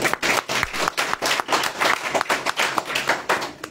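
A small audience at a poetry festival in Raebareli, Uttar Pradesh, claps for the poets, giving quick uneven hand claps that come through clearly and fairly close.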